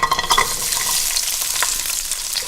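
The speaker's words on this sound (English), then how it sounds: "Now I'm going to add in the rest of my garlic." Large chunks of garlic fry loudly in a hot pan, a dense close sizzle with faint stirring scrapes running throughout.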